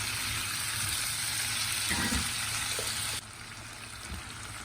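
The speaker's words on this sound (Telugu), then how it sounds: "ఒక ఐదు నిమిషాలు మాత్రం బాగా వేయించుకుంటూ ఫ్రై చేస్తా ఉండండి మాడిపోయిన వద్దు" Boneless masala chicken fries in oil in a pan with a steady close sizzle and crackle; a brief stir or scrape comes partway through, and then the hiss continues a little quieter.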